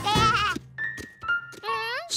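Cartoon sheep bleating in a children's animated show, several wavering bleats in quick succession with a narrator's voice in between.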